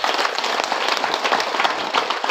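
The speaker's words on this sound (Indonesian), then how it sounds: "Mari kita tepuk tangan untuk Bapak Simon." A crowd at an outdoor political campaign rally applauds for a regional leader, loud, dense and continuous clapping close by, with no speech over it.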